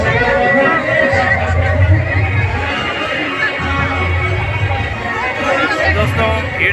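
A packed crowd chatters at a village Durga Puja fair, a dense steady babble of many voices with occasional shouts, loud and close throughout.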